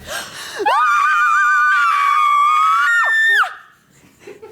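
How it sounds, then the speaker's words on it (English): A woman screams at the top of her voice in an interview setting, one long sustained high-pitched shriek lasting about three seconds, loud and close, followed by a soft breathy laugh. "you scream at them"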